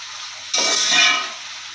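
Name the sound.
chopped onions frying in ghee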